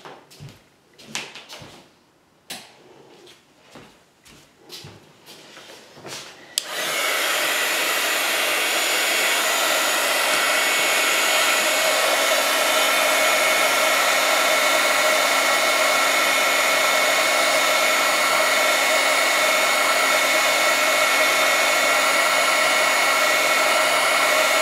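A handheld dryer blowing to dry wax on a journal page, starting after a few clicks and handling knocks, then a steady loud whooshing hum that runs on unbroken.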